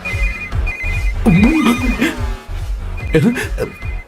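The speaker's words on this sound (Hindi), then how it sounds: "इस वक्त दीदी का फोन।" A phone ringtone chirps in repeated short tones while a voice speaks over it, fairly close and clear.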